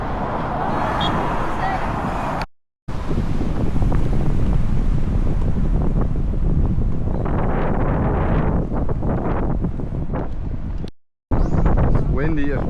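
Strong wind at a beach on Awaji Island buffets the microphone with a loud, constant roaring rumble and gusting bursts, broken by two brief cuts. Faint voices can be heard under the wind toward the end.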